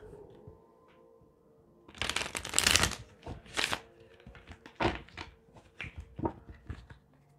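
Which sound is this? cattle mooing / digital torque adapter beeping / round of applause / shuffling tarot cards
shuffling tarot cards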